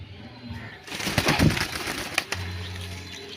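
Fancy pigeons, Tail mark and Lakha breeds, coo softly at close range, a brief burst of low throaty calls with some wing rustling and cage clatter, and a voice in the background.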